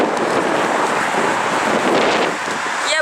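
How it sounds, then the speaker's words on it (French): Strong, cold wind buffets the microphone outdoors, a constant loud roaring rumble that barely changes for the full three seconds, with no voices. "Il y a beaucoup de vent."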